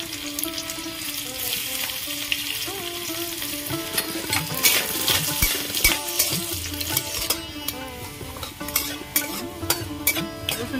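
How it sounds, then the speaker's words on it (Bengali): Minced garlic and fennel seeds fry in hot oil for potato kachori filling, a bright crackling sizzle with frequent metallic spatula scrapes and clinks against the pan, continuous and close. "রসুন ভাজা হয়ে গেছে"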